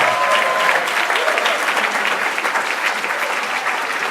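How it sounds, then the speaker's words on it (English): Steady, dense applause from a large audience at a fundraising event, loud and continuous throughout with no pause. "big supporter applause, too"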